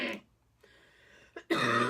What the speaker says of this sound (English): I don't know why I'm coughing so much now.